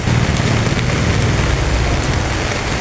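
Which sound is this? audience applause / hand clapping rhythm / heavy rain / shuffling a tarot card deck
heavy rain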